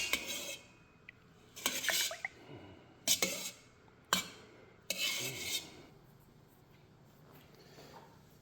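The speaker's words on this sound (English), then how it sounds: "we're gonna stir it up and we'll see what happens" A spoon stirring chilled rice pudding in a dish, giving several sharp scraping clinks against the bowl separated by soft wet, squelching pauses, close and fairly quiet.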